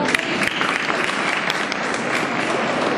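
An audience at a Mumbai University student gathering applauds steadily, a dense, continuous wash of many hands clapping at even loudness for the whole stretch, with no voices standing out.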